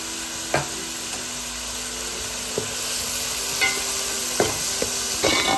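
Onions sizzle steadily in a pan for an egg and drumstick curry while a spoon stirs, giving occasional scraping knocks against the metal over the continuous frying hiss, close and with no talk.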